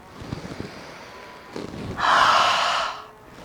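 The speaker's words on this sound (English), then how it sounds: "Cleansing breath, inhale." A deep cleansing inhale during a yoga sequence, drawn sharply through the nose or mouth as one loud, airy rush lasting about a second, close to the microphone and preceded by softer breathing.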